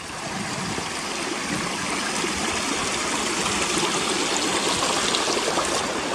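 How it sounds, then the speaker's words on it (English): A fast-moving stream pours down a hillside, giving a steady, loud, broadband rush of water that holds unbroken throughout with no voices. "this is where you've got to cross some fast moving streams coming down the hills."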